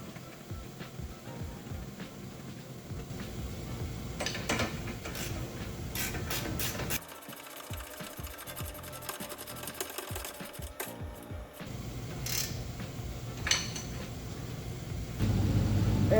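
Caliper and ball joint nut going back on the front suspension of a 2017 Ford Explorer, heard as a long run of rapid mechanical whirring and clicking from a power tool, with brief pauses and shifts in pitch, close by and without speech.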